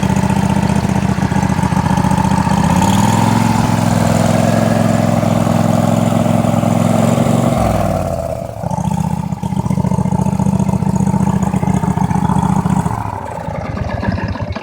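A Craftsman truck engine runs loud and steady at idle, with a deep low throb throughout. The pitch shifts briefly partway through, then it settles back into the same rough, continuous idle.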